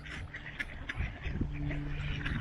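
Ducks quack in short, scattered bursts while being fed oats outdoors, the calls fairly faint and close together over a low background murmur.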